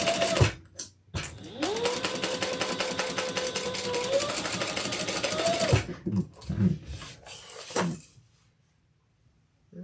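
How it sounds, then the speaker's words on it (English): A sewing machine back stitching a handbag seam runs in one steady, close whirring burst for several seconds, bracketed by short mechanical clicks and handling knocks, then stops and falls nearly silent. "Back stitching well on each end."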